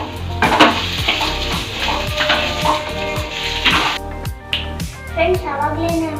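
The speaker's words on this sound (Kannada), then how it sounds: "ಇವಾಗ ನಾನು ಫ್ರೈ ಮಾಡ್ಕೊತಾ ಇದ್ದೀನಿ." Ginger, garlic, cinnamon and cloves fry in a pan with a steady close sizzle, while a spoon scrapes and clinks against the metal at intervals and a voice speaks over the cooking.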